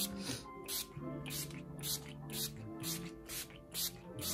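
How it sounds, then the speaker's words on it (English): Makeup setting spray mists out in rapid fine bursts, about eight quick pumps in a steady rhythm, close up over soft background music. "I'm just going to take that and I'm just going to spray"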